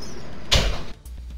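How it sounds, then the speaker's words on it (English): A door bursts open with a single sharp thud and a short rattling scrape that cuts off quickly, loud and close, with no talking. "Kick open the door, Coltaine whispers."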